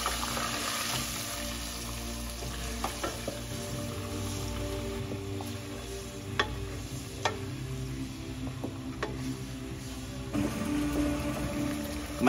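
Onion, garlic and ginger paste frying with spices in a pan, a steady close sizzle and bubbling for several seconds with occasional scraping stir clicks, no voices.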